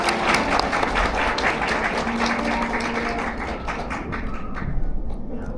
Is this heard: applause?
yes